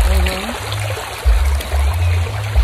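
River water streams and gurgles steadily and loudly close by, with heavy low rumbling bursts, likely wind or handling, over an outdoor river crossing.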